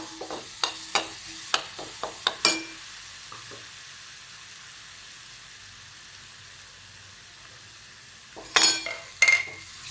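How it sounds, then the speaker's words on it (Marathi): Green chillies sauté in a pan with a soft, steady sizzle, punctuated by a rapid series of sharp spoon scrapes and clinks at the start and a few more near the end. "तुम्ही अजून मिरच्या घेऊ शकता. छान परतून घेऊया असं."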